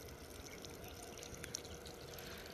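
Water sprays steadily onto a chickpea field like falling rain, a faint continuous trickling patter heard from close by with no voices.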